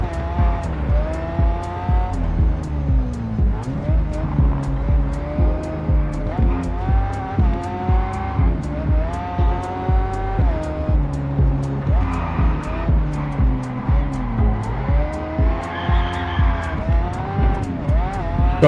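Racing cars in Test Drive Unlimited Solar Crown roar steadily at close range, engine pitch rising and falling through gear changes, with occasional tire squeal and a voice talking over the action.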